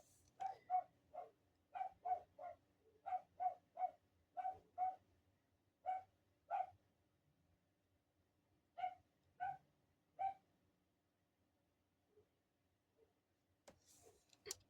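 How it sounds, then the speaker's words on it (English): Dogs bark in quick bursts of two or three sharp yaps, fairly close and clear against a quiet room, trailing off into silence toward the end. "Don't mind the dogs."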